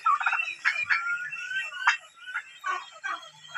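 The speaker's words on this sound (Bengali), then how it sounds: "এটা হচ্ছে রয়্যাল পাম মোরগ" A Royal Palm turkey gobbles loudly nearby, several rapid warbling bursts in a row, with no talking.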